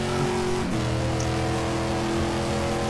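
A McLaren GT race car in GTR 2, at the 1998 FIA GT round at Suzuka, drones behind the player's car: a steady, close, buzzing engine tone that shifts pitch midway, with no talk.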